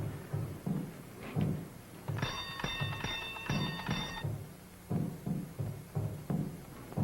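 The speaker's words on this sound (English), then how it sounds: "You ring the bell." A bright doorbell rings in a rapid run for about two seconds, surrounded by low knocking and shuffling sounds before and after.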